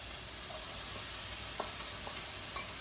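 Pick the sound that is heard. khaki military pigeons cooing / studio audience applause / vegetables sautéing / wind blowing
vegetables sautéing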